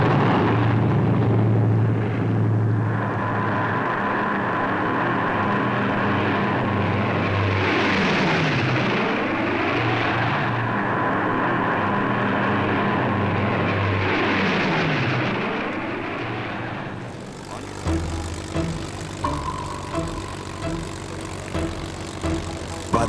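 Heavy WWII bombers, B-17s and Liberators, roaring overhead: a loud, continuous piston-engine drone with swelling pass-bys and shifting pitch, ending in a quieter, rougher engine rumble.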